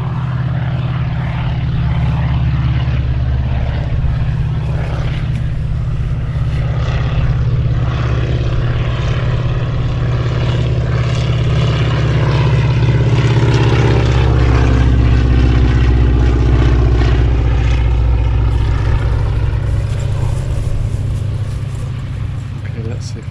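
Stearman propeller biplane taxiing on the ground, a loud steady low engine drone with propeller throb that swells slightly midway, heard close and continuous throughout.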